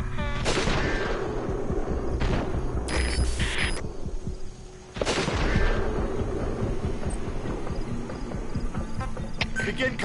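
Gunfire bursts and booming shots ring out in Metal Gear Solid V: The Phantom Pain, loud and dense over a busy rumbling battle bed, with a brief lull midway before the firing resumes.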